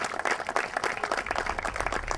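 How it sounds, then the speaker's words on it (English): An audience claps for volunteers at a charity ride event, a dense steady patter of applause at moderate distance that holds for about two seconds. "So let's give them a round of applause."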